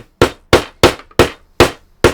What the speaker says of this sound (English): So yeah, it survived the hammer test.